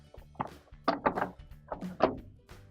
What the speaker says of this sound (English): And we can put our dispenser drawer back in.